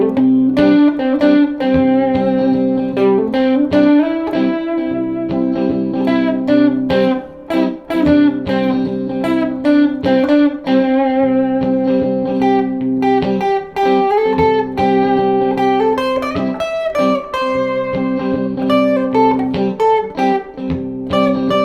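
Electric guitar plays a flowing melodic line of sustained major pentatonic chord tones with light distortion, continuous and fairly loud, without any voices.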